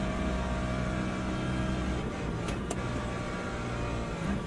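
A race car engine in Le Mans Ultimate drones steadily and fairly quietly throughout, holding a constant tone with a brief sharp click or tick near the middle, with no talking.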